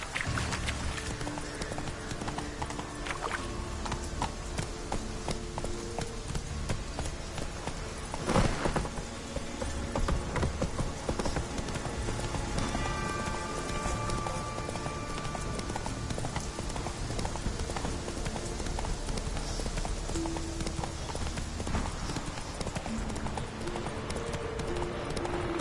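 Steady clip-clop of horse hooves at a gallop in the video game The Witcher 3: Wild Hunt, continuous and loud, mixed with rumbling background noise and faint tonal sounds.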